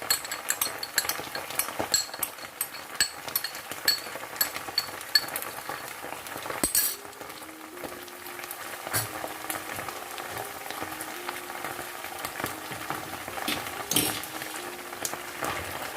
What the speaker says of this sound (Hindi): टमाटर का पेस्ट ऐड करने के बाद इसको अच्छे से मिक्स कर लेते हैं।